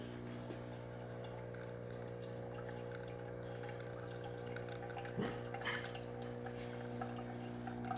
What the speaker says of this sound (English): Good stream coming out through the hot water one.